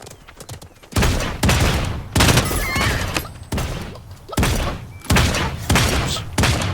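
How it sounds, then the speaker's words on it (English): Bursts of gunfire from a first-person shooter game ring out in about six loud, closely spaced volleys, each a dense crackle of shots separated by brief pauses, with no talking over them. "Missed that shot. Missed all those shots."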